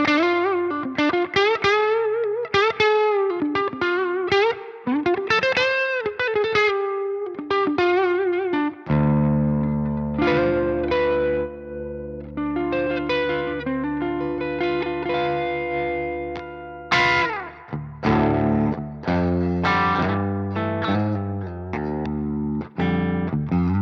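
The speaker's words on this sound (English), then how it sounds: "I see there's a reverb button. Let's just put it up to like 50" Electric guitar through a Bogren Digital BDM amp simulation with reverb set around 50, melodic distorted lines then sustained chords, with reverb tails ringing out between notes.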